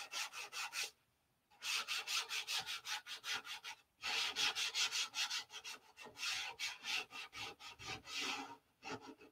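Sanding a P-47 model airplane wing: rhythmic back-and-forth abrasive strokes, close and fairly loud, in bursts with a brief pause near the start and short breaks between runs, no voices.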